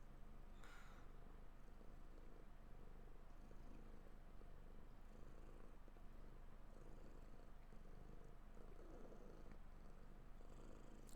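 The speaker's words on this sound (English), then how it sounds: "Can you guys hear her purring?" Cat purring close to the microphone, a faint continuous low rumble with a steady pulsing rhythm and no talk over it.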